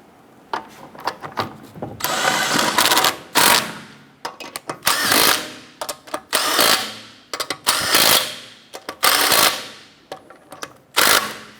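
Lug nuts are run down onto a 2008-2012 Honda Accord front wheel with a rattling power tool, giving repeated loud bursts of about a second each separated by short pauses, close and clear with no talking.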